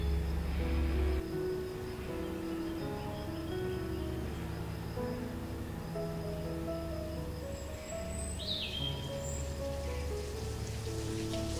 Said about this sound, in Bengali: ঠিক তখনই ঝুপঝুপ করে আকাশ ভেঙে বৃষ্টি শুরু হয়